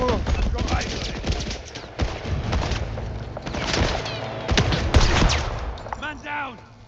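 Gunfire in a GTA video game battle, scattered shots and bursts over a busy mix of shouting voices, with a sharp loud report near the five-second mark and a few whistling tones at the end.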